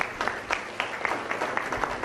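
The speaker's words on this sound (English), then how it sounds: "Can we have a big round of applause?" Audience applause at a corporate digital transformation event in Mumbai: a steady wash of many hands clapping, loud and sustained throughout, with no voices over it.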